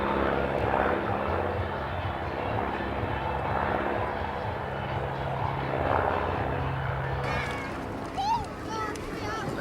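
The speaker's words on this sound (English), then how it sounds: "You can hear already the Packard Merlin engine, P-51D." A P-51D Mustang with a Packard Merlin engine flies past at an air show festival, its propeller engine a steady distant drone beneath an announcer talking over a public address system.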